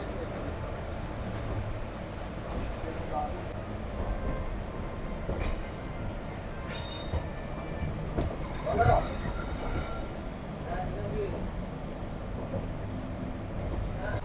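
A train pulls out of Puri railway station, a steady low rumble of rolling wagons with faint wheel clatter and brief squeals, heard from on board with background voices.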